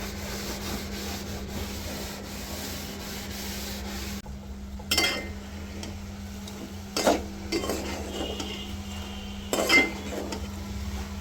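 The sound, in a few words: cleaning the gas stove while curry cooks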